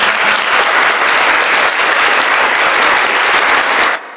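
Loud, dense applause rings out steadily for about four seconds, then cuts off abruptly, a burst of clapping that opens a devotional Hindi recitation.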